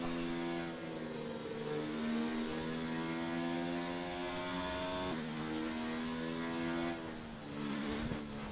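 An F1 race car engine in a Monaco video game race hums steadily out on track, a high droning whine that shifts pitch slightly and runs alone without talk.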